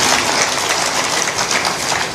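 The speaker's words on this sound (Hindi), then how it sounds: "इनके लिए भी ताली बजा दो," Audience applause fills a Hindu saint's spiritual discourse gathering, a dense, steady wash of many hands clapping continuously throughout, with no talking.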